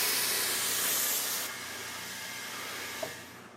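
Compressed air hisses steadily into a patched, repaired tire, loud and close for a while, then drops to a quieter, continuing hiss with a brief click near the end.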